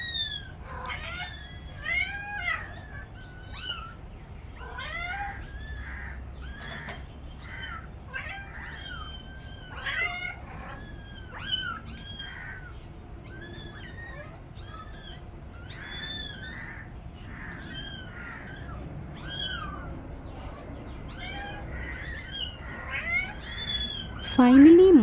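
Kittens and their mother cat meow over and over, with close, overlapping high cries that keep coming for the whole stretch.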